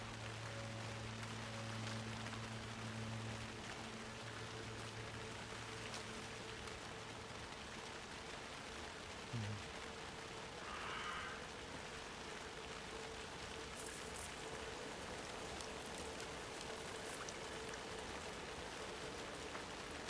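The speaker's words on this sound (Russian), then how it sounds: "Что-то дождик капает." Rain in Alan Wake II falls softly, a faint steady patter of drips as an even hiss with a low hum underneath.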